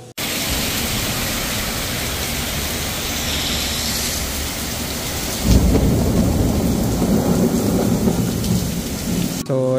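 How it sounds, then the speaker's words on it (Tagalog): Heavy rain pours steadily near Ximending in Taipei, with rumbling thunder and a louder downpour surge partway through, no voices over the storm. "hindi lang kami makalabas pa kasi ang lakas ng ulan"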